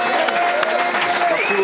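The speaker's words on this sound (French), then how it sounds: "Bravo, on peut l'applaudir en tout cas." A crowd at a French political comedy event bursts into brief applause and cheers, dense clapping that fills the moment with a few whistles rising near the end.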